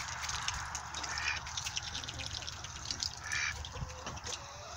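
White ducks outdoors in a muddy pen give soft, faint quacks and chatter over a wet, splashy background of water and dabbling.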